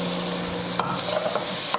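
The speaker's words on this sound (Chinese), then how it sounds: "把这些调料都炒香了以后" Minced garlic, chili powder, salt, sugar, soy sauce and oyster sauce stir-fried in a wok over medium-low heat make a soft continuous sizzle, with brief scraping strokes of the spatula close by.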